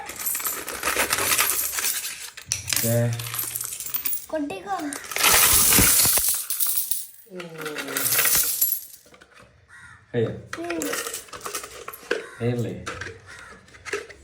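Coins spill from a broken-open coin bank belonging to a boy, in loud, close bursts of jangling metal that pour and scatter. Children and adults talk excitedly throughout.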